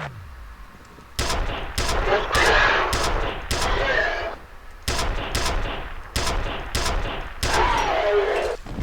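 Bolt gun in the F.E.A.R. video game firing about ten sharp, evenly spaced shots, each a loud crack with a short ringing tail, over a low steady background.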